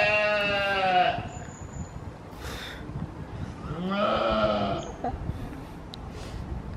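Goats in a pen at Budapest Zoo let out two loud, wavering bleats, one at the start and another a few seconds later, close to the listener over steady outdoor background noise.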